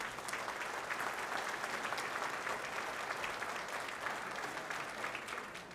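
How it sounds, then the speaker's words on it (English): Banquet audience at an annual chairman's awards dinner applauding sponsors: even, sustained clapping from a large crowd, moderately distant and slightly softer toward the end. "Please give them all a round of applause"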